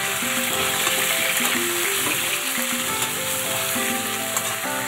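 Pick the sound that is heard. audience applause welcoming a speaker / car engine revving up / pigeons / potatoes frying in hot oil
potatoes frying in hot oil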